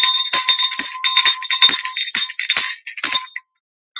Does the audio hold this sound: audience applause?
no